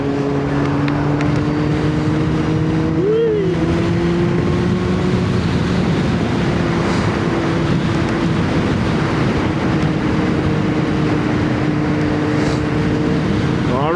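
A Kawasaki ZX9R motorcycle cruising on the M5 motorway through Birmingham, with a steady engine drone and heavy wind rush filling the clip, loud and continuous with no speech.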